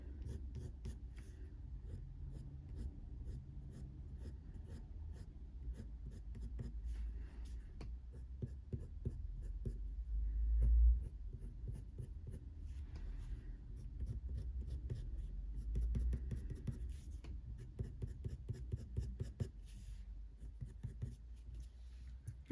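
Coloured pencil scratching and scribbling on blue toned paper, close and quiet, in rapid repeated short strokes with brief pauses between passes.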